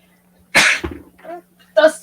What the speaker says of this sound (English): then I sneezed